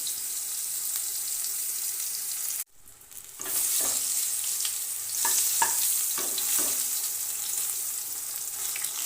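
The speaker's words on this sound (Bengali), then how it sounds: "এইভাবে এপিট এপিট করে ভেজে উঠে নেব" Eggplant slices frying in oil in a pan, a steady bright sizzle briefly cut off, then returning with several close scraping and flipping sounds as the pieces are turned.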